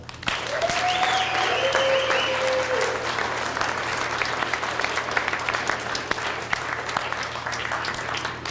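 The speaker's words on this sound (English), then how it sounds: "Let's give them a round of applause." A crowd claps steadily and loudly for several seconds at an elementary school drug-prevention program ceremony, with a couple of whistles rising early on over the dense applause.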